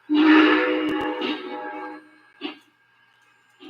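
A hissing model train steam whistle, triggered by TMCC remote, blows for about two seconds, fades, then gives a brief short toot; small and close, with quiet between.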